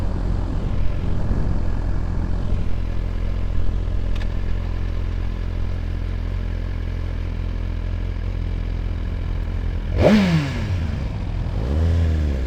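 A Suzuki GSX-R1000R motorcycle engine idles with a loud, steady drone, then revs sharply once near the end, the pitch rising and falling again.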